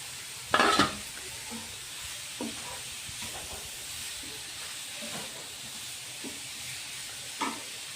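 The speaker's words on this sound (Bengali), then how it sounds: "কিছুক্ষণ নেড়ে চেড়ে আমি ঘিগুলো দিয়ে একটু ভেজে নিয়েছিলাম" Grated carrot frying in ghee in a pan while being stirred, a soft continuous sizzle and hiss with a few scraping utensil knocks, one louder clatter near the start.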